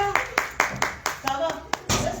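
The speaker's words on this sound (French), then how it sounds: "On applaudit petit Falil." A few hands clap in a steady, moderately paced rhythm, about nine sharp claps close by, with a voice briefly audible underneath.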